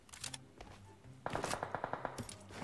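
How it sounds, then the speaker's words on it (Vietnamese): Gunfire in the video game PUBG Mobile comes as scattered single shots, then a rapid automatic burst of evenly spaced cracks, and then more shots. It sounds fairly close and sharp, with no talk over it. "Nãy lại vừa nghe thấy tiếng súng bên này nữa"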